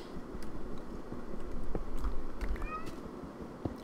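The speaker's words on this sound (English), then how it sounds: "Oh snap, I hear a kitty cat." A cat meows in the blocky video game Minecraft, a couple of brief high calls rising over a low, constant background hum.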